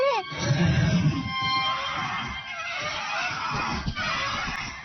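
Several goose-like honking bird calls sound one after another in a Doraemon cartoon, loud and close, with a sweeping cry at the start and busy layered cartoon sound around them.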